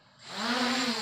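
MJX Bugs3 quadcopter drone motors arming and spinning up, a buzzing whine that climbs in pitch and grows louder, then holds a steady drone close by with no talk.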